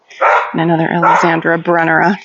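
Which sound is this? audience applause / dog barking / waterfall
dog barking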